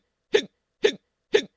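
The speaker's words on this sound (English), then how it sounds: "Peeing with the hiccups is a hazard." Three short hiccups spaced evenly about half a second apart, each a sharp close gulp with a little breathy tail, standing alone against silence.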